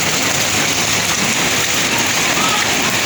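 Steady, dense rainfall hisses throughout, loud and close, with no pauses.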